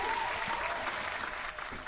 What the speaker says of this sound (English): Thank you for them claps.